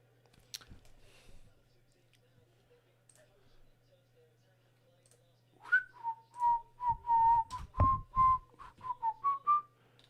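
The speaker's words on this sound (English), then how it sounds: "Referee's blowing the whistle quite a lot" Referee's whistle at a Premier League football match between West Ham and Manchester United, a run of short sharp blasts repeated rapidly, loud and close, over a low steady hum.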